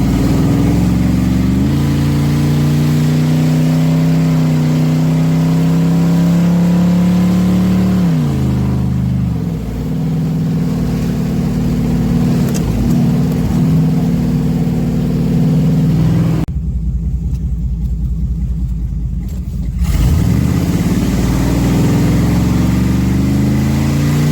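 A truck engine rumbles loudly and revs up and down repeatedly, its pitch rising and falling, with a brief throttle-off dip before it surges again.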